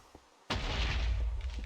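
A laser set to explosive mode in a modded Minecraft skyblock game fires a single loud blast that breaks in suddenly after a brief quiet moment and rumbles on with a heavy, sustained roar.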